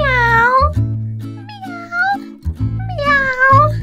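A voice imitates a cat, giving about three drawn-out, sing-song meows over steady background music in a children's learning song.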